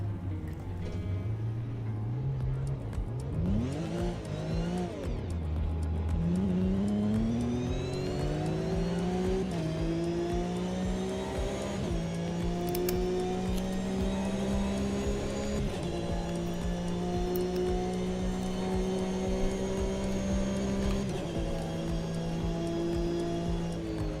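Race car engine in the Automobilista 2 sim racing game, loud and continuous, revving up through gears with rising whines and brief shifts, tyre noise underneath.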